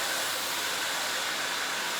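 A Harry Josh hair dryer runs steadily, giving a continuous close airy whoosh with no break and no voices.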